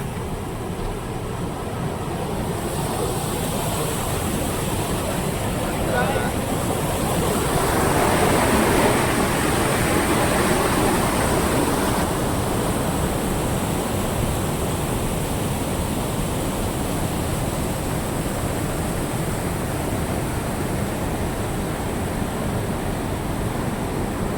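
Steady, loud rushing of river water pouring over a weir, a continuous broadband roar that swells slightly midway and never pauses.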